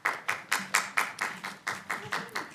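Audience at a Raleigh city council special meeting clapping in a steady run of about ten sharp claps, a few at a time, fairly close and clear, with no talking over it.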